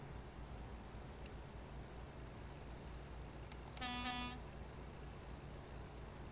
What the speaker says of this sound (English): Yep, I honked my horn at him.